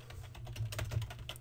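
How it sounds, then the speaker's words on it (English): Fast, continuous clicking of keys on a computer keyboard, close and fairly quiet, with a low steady hum underneath. "again I'm typing in all caps"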